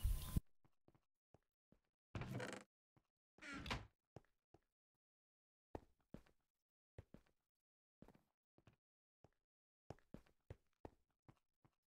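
Wooden door sounds in the Minecraft modpack Agrarian Skies, a couple of short sliding scrapes followed by a scattered series of sharp clicks and knocks against near silence.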